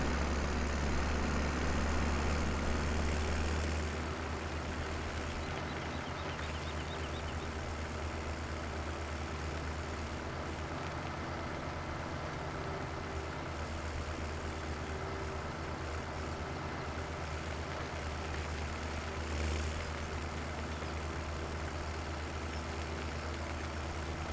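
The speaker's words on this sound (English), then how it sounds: "See how well this tractor does with a full load of soybeans." A tractor engine in Farming Simulator 17 hauls a full load of soybeans, a steady low diesel drone and hum running continuously for the whole stretch, slightly louder at first, with no talk.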